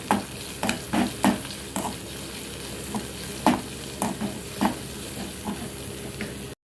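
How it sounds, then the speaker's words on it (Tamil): One large chopped onion with a few curry leaves sautéing in a pan, a soft continuous sizzle broken by irregular spatula scrapes and taps, close and moderately loud, with no talking. "ஒரே ஒரு பெரிய வெங்காயம் அரிஞ்சு போட்டிருக்கேன் லாஸ்ட்டாக கொஞ்சமாக கருவேப்பிலை போட்டு நல்லா வதக்கி விட்டுருங்க"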